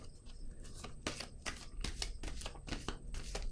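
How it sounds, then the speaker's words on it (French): Tarot cards being handled and laid down on a table, a quiet run of close papery slaps and shuffling flicks in an uneven rhythm. "Je vais déposer une autre carte."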